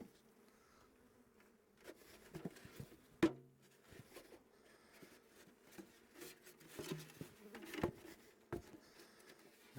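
Low, steady buzzing of bees as a nucleus colony is tapped out of its box into a full hive, punctuated by a few sharp knocks and taps, with the loudest thump near the middle.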